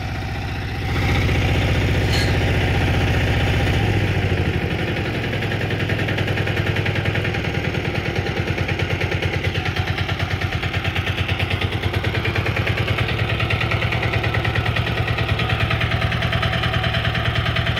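A diesel engine, newly installed as a replacement, idles steadily and loudly close by with a low, even rumble that holds through the whole stretch, briefly raised in revs near the start before settling.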